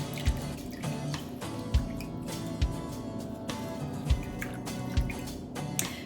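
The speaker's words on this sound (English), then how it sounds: "I'm going to gently mash the berries to make sure I get all of the juice" Berries are gently mashed to extract juice, giving soft wet squishes and periodic dull knocks spaced about a second apart, close and quiet against a faint background.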